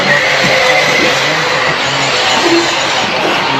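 Electric 1/8-scale RC buggies race around a dirt track at Dirt Burners, their motors whining and buzzing in a dense, continuous wash of sound with overlapping pitches as cars climb a hill into a double jump.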